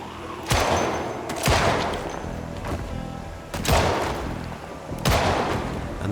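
Gunshots ring out in the zombie survival game Project Zomboid, four loud, sharp reports spaced about a second apart, each trailing off into a rumbling decay.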